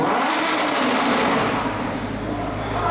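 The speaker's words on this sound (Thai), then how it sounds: "มี Lamborghini Urus อยู่ข้างนะแต่ด้านโน้น โอ้โห ดังเหลือเกินครับ" A Lamborghini Urus supercar engine roars loudly and continuously nearby, a dense, throaty rumble that deepens into a heavier low drone toward the end, with no talk over it.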